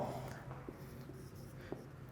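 Soft, scratchy strokes of writing on a board during a maths lecture come in short, quiet bursts against a faint room hum, with no talking.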